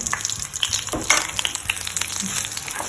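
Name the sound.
curry leaves frying in pan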